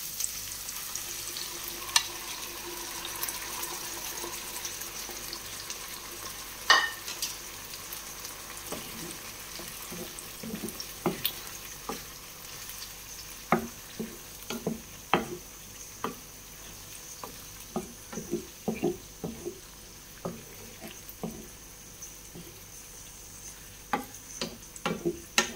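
Sauce simmering with vegetables in a frying pan, giving a steady low bubbling and sizzle dotted with irregular clicks and pops from stirring, close by, with no talking.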